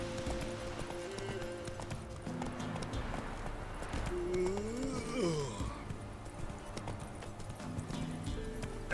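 Hooves of Roach, Geralt's horse in The Witcher 3: Wild Hunt, clip-clop in a steady riding rhythm with game music and ambience, and a brief whinny-like tone partway through.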